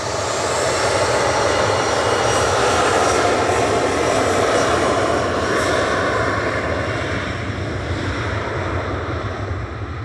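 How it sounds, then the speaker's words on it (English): A Logan Air airliner bound for Inverness at Manchester Airport gives off a loud, continuous engine roar and whine, steady throughout and heard close, with no voices over it. "So this is Logan Air Flight 592 to Inverness"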